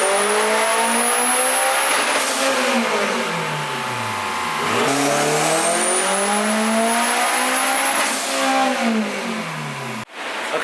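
A turbocharged Honda K24 car engine revs hard through two long dyno pulls, pitch sweeping up then dropping, with a high turbo whine on top, loud and close.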